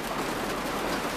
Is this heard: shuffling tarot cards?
no